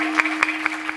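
Applause for kirtan musicians, quick sharp claps arriving in an uneven rhythm over one second, fairly close, above a steady tonal drone.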